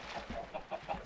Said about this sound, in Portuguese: Ai, galinha, nunca vi galinha atacar a gente, galera.